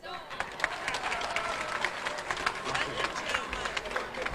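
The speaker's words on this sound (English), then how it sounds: "let's give another round of applause to the LC1 chairman, Mr. Orem Joseph." An audience applauds at a hydro-power plant commissioning ceremony, a steady moderate clatter of many hands clapping at a distance with crowd murmur mixed in.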